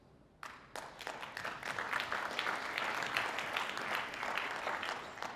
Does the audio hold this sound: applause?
yes